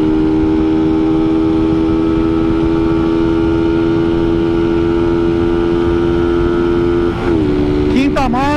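A Honda Titan KS 125 motorcycle engine roars at a steady high pitch, held at full throttle, then drops and climbs again as it shifts from third to fourth to fifth gear and revs up.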